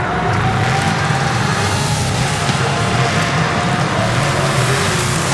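A Mercedes engine in Forza Horizon 5, a loud continuous drone at steady revs with a dense broadband roar of road and traffic noise around it, heard alone without talk.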